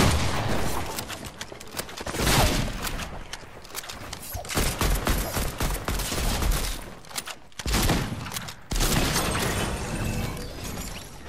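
Rapid gunfire from the video game Fortnite crackles in repeated bursts, loud and close, with short pauses between volleys and game effects around them.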